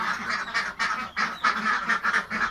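Ducks in a pen honk and quack in a steady, overlapping chorus, loud and close, with no talking over them.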